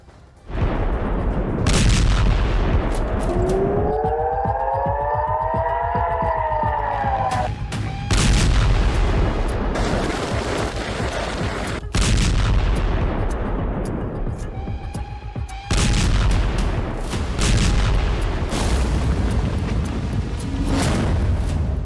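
Loud, continuous rumbling booms and blasts of a Hezbollah rocket and missile barrage on Karmiel and Maalot-Tarshiha, Israel, roll on one after another, with rising whistle-like tones and dense noise throughout.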